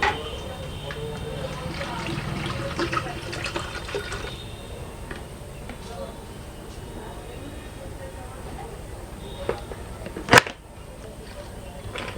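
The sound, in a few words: pouring Slice mango drink from a bottle into a snow ice machine drum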